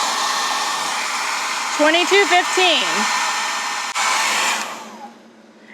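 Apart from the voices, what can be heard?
cooling fan running in hot Jackery Explorer 1500 power station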